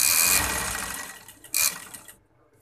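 A sewing machine stitching a cotton shirt in a close, loud whirring run that fades, followed by a second short burst before it stops.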